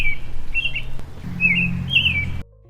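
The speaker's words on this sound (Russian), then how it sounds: "просыпаешься под пение птичек" Several clear bird chirps and short warbling calls sound in quick bursts over a low background hum in London.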